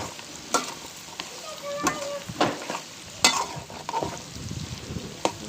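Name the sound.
frying and stirring garlic with meat in a karahi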